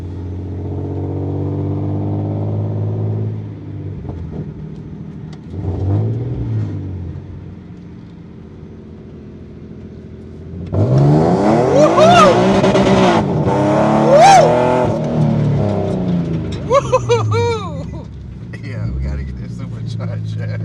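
A supercharged Nissan 370Z engine idles with a low burble, then revs sharply in several rising blips with a whining supercharger tone; people talk and exclaim between the revs.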